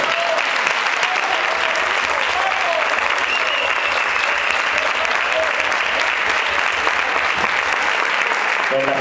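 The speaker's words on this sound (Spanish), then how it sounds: "Un aplauso para todos ellos." Audience applause at a chirigota carnival-group contest in Caravaca, a dense, steady wash of many hands clapping throughout, loud and continuous from start to finish.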